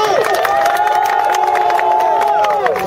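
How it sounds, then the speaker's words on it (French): A dense political rally crowd of young people cheers, whoops and applauds loudly and continuously, a close wall of shouting voices with clapping underneath. "Applaudissements, applaudissements."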